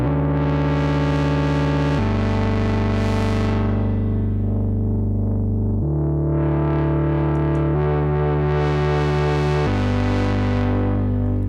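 A Moog Subsequent 37 synthesizer plays a melodic house and techno patch with added noise, a loud, dense, buzzy bass sequence whose brightness sweeps up and down as the filter moves, with no talking.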